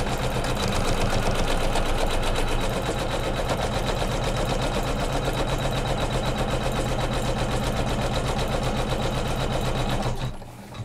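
Sewing machine stitching a quilted fabric strip over batting for a Kimberbell pillow flange, a loud, steady motor whir with rapid needle clatter running nonstop before stopping near the end.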